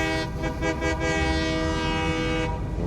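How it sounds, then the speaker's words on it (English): A locomotive from the game Satisfactory rolls along loudly with a steady mechanical drone and a sustained horn-like tone, close and continuous. "I wonder if there's a way to speed up my locomotive"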